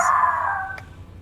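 A voice imitates a creature barking in a tabletop role-play game session, giving one brief, strained call that trails off and fades, with no other talk.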